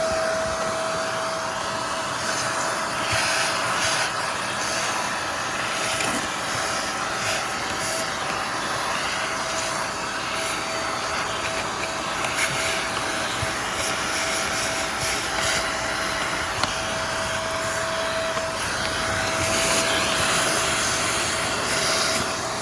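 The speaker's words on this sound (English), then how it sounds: "I used her vacuum to suck up a bunch of hive beetles" Household vacuum cleaner sucking up small hive beetles around a beehive, a continuous steady whine with a constant airflow hiss, running alone without talk.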